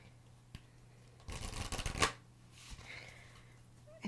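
Tarot cards are riffled in a dense burst of crisp flutters lasting under a second, followed by a few softer handling taps in an otherwise quiet room.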